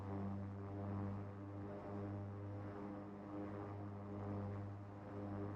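A simulated King Air 350 turboprop engine in X-Plane 11 runs up to about 1500 RPM on the ground, a steady droning hum with strong low tonal bands that holds evenly throughout.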